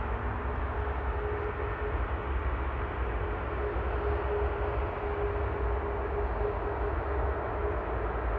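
Steady broadband jet roar from an EasyJet airliner at Manchester Airport, a continuous far-off rumble holding level throughout with no voices over it.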